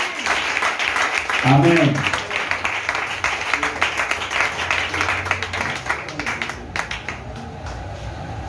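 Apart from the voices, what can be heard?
church congregation applauding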